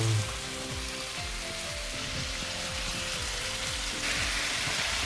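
Cherry tomatoes tossed into a pan of frying peppers for peperonata, hissing in a steady, dense sizzle close by that swells slightly near the end, with no voices.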